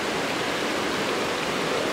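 Waterfall at Nile Creek in the woods, a steady broadband rush of falling water that holds an even, continuous roar throughout without any breaks.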